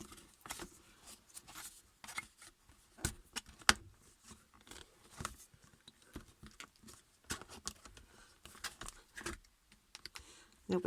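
A blade cuts mount board for a photo frame, making scattered small clicks and scraping taps at close range, with faint talk in the background.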